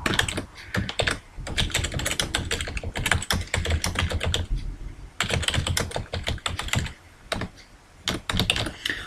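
Steady typing on a computer keyboard, rapid close key clicks in bursts separated by brief pauses, with no talking over the clatter.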